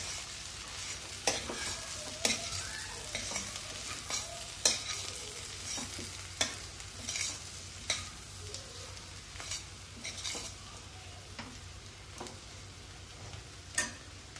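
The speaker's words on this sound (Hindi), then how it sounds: "अमचूर डाल दिया, तो मिला देते हैं" Mixed vegetable curry with amchur is stirred in a pan, with a spoon clicking and scraping against the metal at irregular intervals over a faint, steady sizzle, close up and without talk.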